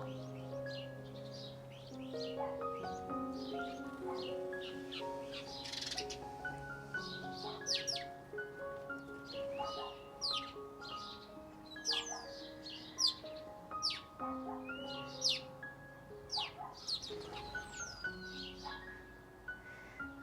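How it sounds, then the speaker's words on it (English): Many birds chirping and singing outdoors, overlapping calls and trills near and far, continuous with no talking. "I don't know if you can hear all the birds through my microphone"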